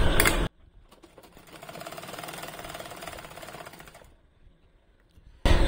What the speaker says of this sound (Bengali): এই কাপড়টাতে এই সেলাইটা একটু সেলাই করে দেখি আসলে কি অবস্থা সেলাইয়ের